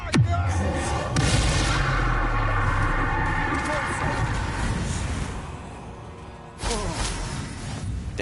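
A Confringo spell exploding in Hogwarts Legacy, a sharp bang followed by a rumbling, crackling blast that fades, then a second burst near the end.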